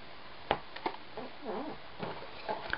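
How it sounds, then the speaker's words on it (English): A chair rubbing against a wall gives a faint, brief wavering squeak among a few soft knocks and taps in a quiet room. "That's my chair squeaking,"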